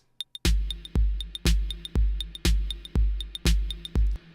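Drums sent through Logic's Space Designer reverb on a 16-second huge dome preset, a steady kick-and-snare beat with crisp hi-hat ticks where every hit blooms into a long washing tail that fills the gaps, loud with no talking.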